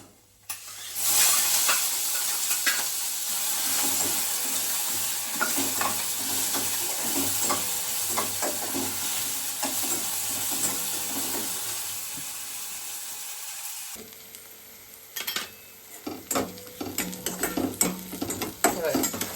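Onion and green chilli tossed into a pan of frying peanuts, giving a loud continuous sizzle with repeated stirring scrapes; the sizzle drops away near the end, leaving sparse clatters and utensil knocks.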